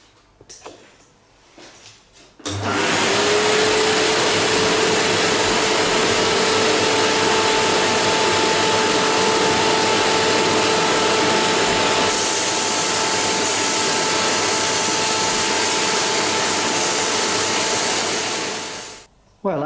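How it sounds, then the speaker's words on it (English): A loud, steady hiss of sandblasting a Yamaha scooter engine casing inside a blasting cabinet runs continuously for over fifteen seconds with a vacuum droning underneath, then cuts off abruptly. "seal the door and start blasting"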